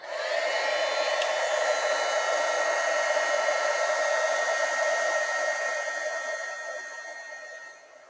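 A heat gun blows with a steady loud whine and rush of air, close by, fading slightly near the end.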